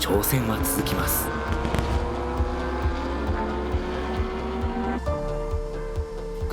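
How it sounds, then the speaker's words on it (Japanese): A liquid-hydrogen-fueled Toyota Corolla race car pulls into the pit during a night endurance race, its engine whining with shifting tones and a drop in pitch near the end, under background voices. "車がピットの中に帰ってきました。"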